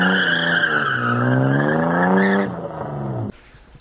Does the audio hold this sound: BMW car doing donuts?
yes